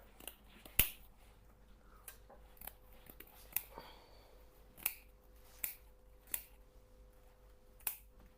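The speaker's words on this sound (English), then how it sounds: "Cut the wire." Wire being snipped while a large Monstera Albo is cut free from a moss pole, giving a series of sharp, close clicks spaced about a second apart over quiet background.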